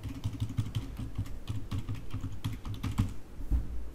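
Rapid clicking keystrokes on a computer keyboard as a wallet password is entered, a steady run of close, distinct taps with brief pauses between bursts.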